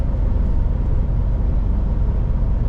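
Loud, steady wind buffeting the microphone on a road trip from Istanbul toward Kapitan Andreevo, a continuous low rumbling roar with no pauses and no voices.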